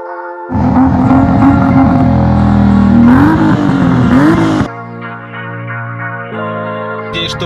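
VAZ 2102 Zhiguli car accelerating hard in a drag race against imported cars, a loud close engine roar rising through gears with pitch climbs, then dropping to a lower steady drone.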